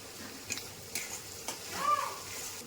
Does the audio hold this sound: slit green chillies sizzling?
yes